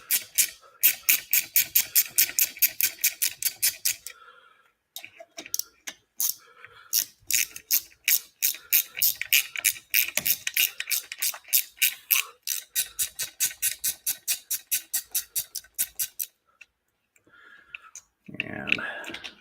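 A ratchet wrench loosening bolts on a motor during a teardown, rapid runs of sharp metallic clicks in repeated bursts with short pauses, close and crisp, ending with some handling clatter.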